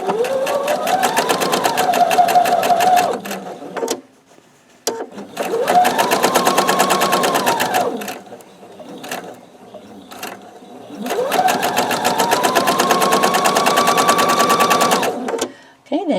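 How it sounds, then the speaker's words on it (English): A sewing machine stitches a log cabin quilt block in three loud, steady runs of rapid needle chatter, with short pauses between them. "Slide it on up there so you can start sewing."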